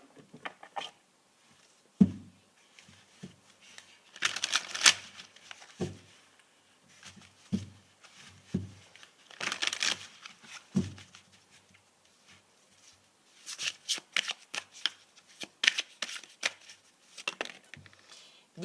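Tarot cards are shuffled by hand in quiet, close bursts of papery riffling and soft slaps, separated by short pauses.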